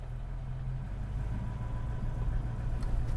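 A classic car's 2.5-liter V8 runs smoothly at low revs after pulling away in drive, a steady low rumble heard from inside the cabin that swells slightly toward the end.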